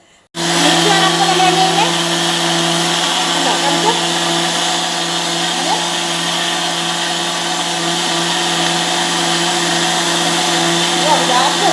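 A mixer grinder blending a shake runs steadily with a loud, constant high whir, without pause from start to finish.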